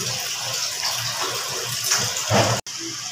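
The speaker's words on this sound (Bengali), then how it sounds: "এবার চিকেনের মধ্যে এই জলটা দিয়ে দেওয়া হলো।" Hot water spiced with clove, cardamom, cinnamon and salt pours into chicken and potatoes cooking in a pot, a steady close splashing gush that swells briefly near the end and then cuts off.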